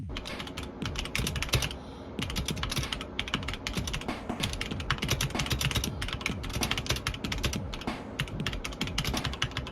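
Rapid, steady keyboard typing clacks up close, keys tapping in quick bursts with a brief pause early on; no speech.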